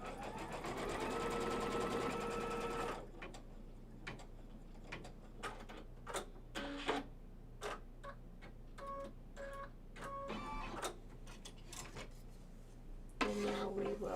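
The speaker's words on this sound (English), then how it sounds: "Now we're going to bring this one and stitch it down." An embroidery machine stitches a quilt block piece down in the hoop: a steady, loud mechanical whir at first, then a quieter stretch of scattered clicks and thuds, and a brief final burst of stitching.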